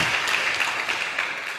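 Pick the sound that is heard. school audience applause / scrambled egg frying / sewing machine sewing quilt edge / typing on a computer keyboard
school audience applause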